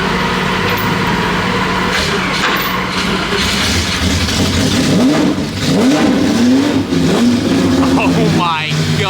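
Straight-piped Jaguar XJR-15 revs with a loud, raw, rising engine roar that holds steady as it pulls away. Gusty noise and voices run underneath.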